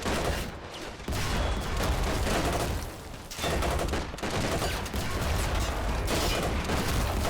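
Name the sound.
25-pounder artillery fire in a WWII video game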